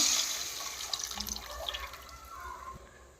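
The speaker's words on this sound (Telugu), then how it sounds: "అలాగనే పిసుకున్న చింతపండు పులుసు రెడీ చేశాను కదా, ఇది ఇందులో వేసుకుందామండి" Squeezed tamarind juice is poured into a pan of small fish curry, giving a soft, steady liquid splashing and trickling that fades slightly over a few seconds, with no talking.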